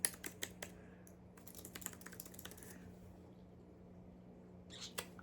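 Typing on a new computer keyboard, with crisp key clicks that come in scattered bursts and then fade, close but quiet over a steady low hum.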